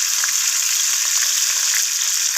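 Cauliflower frying in a pan, browning in oil, gives a steady, loud, dense sizzle with tiny crackles throughout and no talk.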